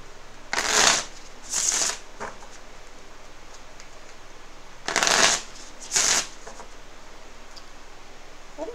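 Tarot cards are shuffled close up in four short riffling bursts, two quick ones, then a pause and two more, in a quiet room.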